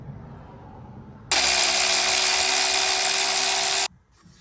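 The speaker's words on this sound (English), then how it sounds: "undo the 4 12 mil bolts that hold this onto the body" A power tool undoing a 12 mm bolt on a Toyota Hiace AC compressor, a single loud, steady high whine lasting about two and a half seconds, then stopping, no voices.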